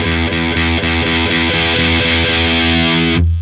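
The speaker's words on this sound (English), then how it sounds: "you're more likely to achieve your goal with a distortion pedal than with an overdrive pedal" Electric guitar through a distortion pedal cranked to its highest distortion level, chugging chords at a fast even pulse, thick and saturated, loud and alone before cutting off abruptly.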